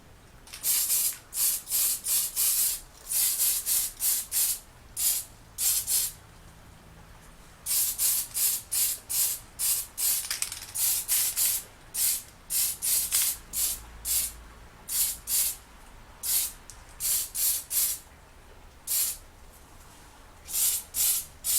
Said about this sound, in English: a quick go over with the Mr. Hobby top clear coat